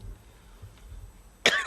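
A single sharp cough rings out near the end of a quiet stretch during a presidential press briefing, with faint low room noise before it.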